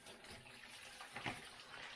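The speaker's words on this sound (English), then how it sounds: "There's all the water, hopefully running into my bowl." Coolant water gushes and trickles steadily from a classic Mini's radiator into a bowl, a close, wet pouring sound with a brief louder splash.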